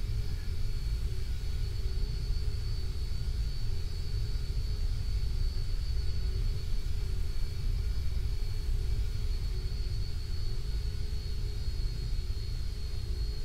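Steady, distant jet engine rumble of a plane landing in the Roblox flight game Aeronautica, during an anime convention event at Umibutsu International, holding a constant low roar with faint whine throughout and no talk.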